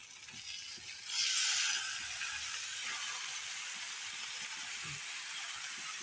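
Jackfruit added to a pan of shrimp sets off a sudden burst of sizzling that settles into a constant, fairly faint hiss, with soft stirring scrapes underneath.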